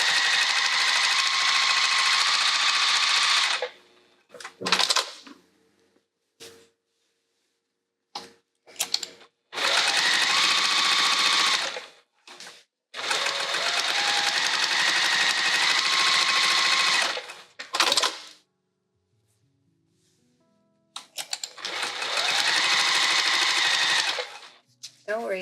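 A Juki sewing machine stitches a quilted hat in several bursts of fast, steady whirring, each lasting a few seconds and separated by brief pauses and soft clicks of fabric handling.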